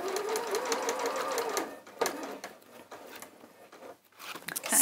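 A sewing machine stitches a seam on a bag, a close, even hum with fast needle chatter for about two seconds before slowing and stopping, followed by quieter handling sounds.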